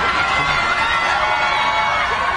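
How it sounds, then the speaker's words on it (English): A large crowd at an American Ninja Warrior run cheers and roars loudly and continuously, a dense, steady wash of voices with no pauses. "Quite the crowd."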